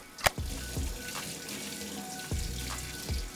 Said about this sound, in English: I'm gonna go to the sink to rinse out all the soap.